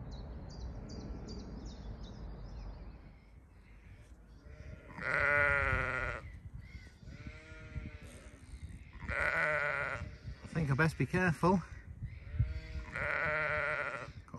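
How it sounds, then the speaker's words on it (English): Sheep bleat during lambing season on a walk around reservoirs in the Peak District, several loud nearby calls in separate bursts over light wind, with brief birdsong at the start and someone speaking briefly. "Got some aggressive sheep here"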